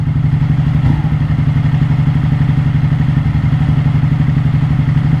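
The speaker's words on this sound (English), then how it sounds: "the old Panigale isn't quite right, because she's still idling a little bit rough" A Ducati Panigale motorcycle idles close by with a steady rapid thumping pulse, loud and continuous, with a slightly uneven, rough running note throughout.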